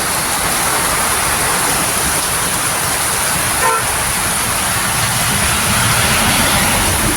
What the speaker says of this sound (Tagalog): Hindi ulan lang, malakas na ulan.